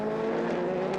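Race cars, including LMP3 prototypes, at the 4 Hours of Le Castellet make a loud, steady engine roar at high revs, sustained across the whole second without a break.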